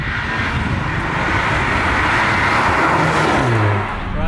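A 2021 VW Golf Mk8 GTI in sport mode drives along B roads, its engine and road noise a loud, steady roar that swells under acceleration before easing off near the end.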